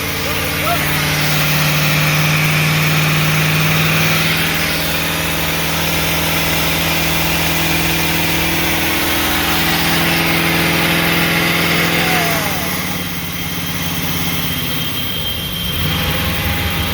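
A motorhome engine idles steadily and loud throughout, with a constant low hum and a slight dip in level near the end.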